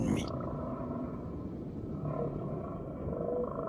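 Humpback whale song, a mother with her calf nearby, rises as low moaning tones under a steady rumbling wash, with faint drawn-out calls around the middle and end.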